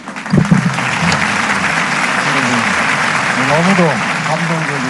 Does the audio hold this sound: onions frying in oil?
no